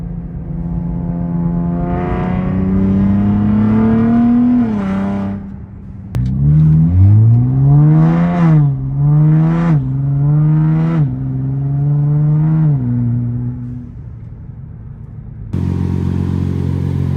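Nissan Z sports car on a test drive, its engine droning and rising and falling in pitch through repeated revs and gear changes, loud and close, no talk.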